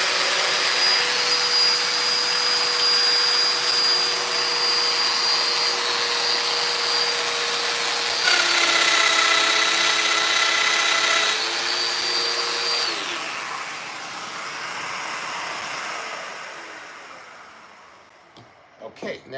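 A Festool Domino joiner cutting mortises in wood gives a steady high whine with a vacuum-like rush that shifts pitch briefly during the cuts, then spins down near the end, with some talking.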